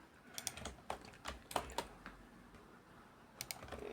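Computer keyboard keys clicked in quick irregular bursts during a Call of Duty game session, close and fairly quiet, with pauses between the clusters of taps and no talking.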